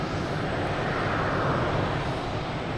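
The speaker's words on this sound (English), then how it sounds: "Got a plane coming in here." An Air France Airbus A350-900 airliner approaching Boston Logan Airport, a steady broad jet roar filling the air at constant loudness with no pauses.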